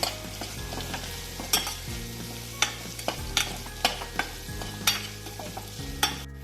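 A spoon stirs spices into sizzling kantola, spiny gourd, in a hot pan: steady frying hiss with regular close scraping strokes against the metal, no talking.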